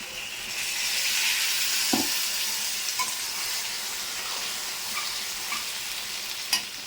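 Water poured into a hot cooking pan sets off a steady, soft sizzle and hiss that continues for several seconds, with a few faint utensil clicks on top.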